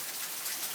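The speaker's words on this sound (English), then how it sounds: "Just look how the rain's coming down." Rain pours down in a dense, steady hiss with water spilling from a house gutter, loud and close, filling the brief moment without any voices.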